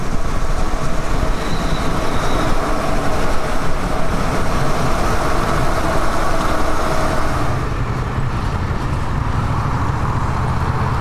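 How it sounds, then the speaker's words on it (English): A Joondalup line train heading to the city rumbles past close by, a steady loud roar of wheels on rails that drops off as it moves away. "and that's the train to the city"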